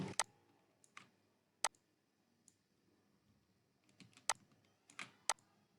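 Sparse keystrokes on a computer keyboard in a quiet room, a few isolated clicks followed by short bursts of typing, faint and close with near silence between.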